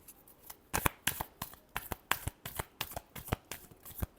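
Tarot reading cards shuffled by hand, a quick run of crisp riffling snaps and soft slaps in an irregular rhythm, close and fairly quiet with no talking.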